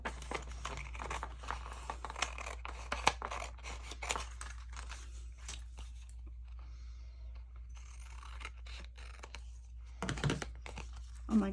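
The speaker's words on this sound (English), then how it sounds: "And then we're going to cut it out." Scissors cut out paper for a craft project, giving a series of quiet close snips and crisp paper rustles in an otherwise hushed room, with a low steady hum beneath.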